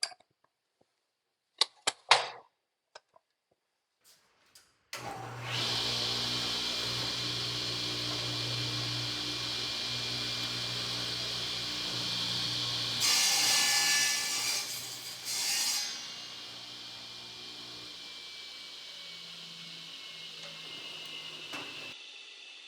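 A SawSmith 2000 saw trimming the end off a wood piece: a few sharp clicks, then the motor spins up into a loud, steady whine, rising as the blade bites through the wood before winding down.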